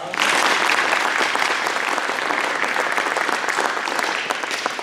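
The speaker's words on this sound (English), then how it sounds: "One more round of applause" Loud, continuous applause from a large group at a D.A.R.E. graduation ceremony starts abruptly and carries on steadily, fading slightly toward the end.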